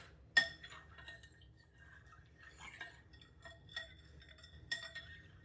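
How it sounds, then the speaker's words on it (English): A spoon clinks against a bowl while stirring tiramisu ingredients, with a sharp tap near the start and a few lighter clinks scattered through an otherwise quiet stretch. "So, stir that in. Let it dissolve."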